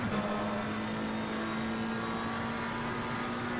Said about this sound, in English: We'll get to hear the beautiful sound of the McLaren 720S as it makes its way up the mountain